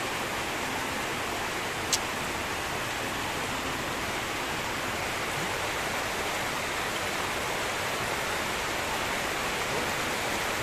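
Heavy rain sends floodwater rushing past roofs and trash, a dense, steady broadband wash that holds without a break throughout, loud and close, with no talk over it.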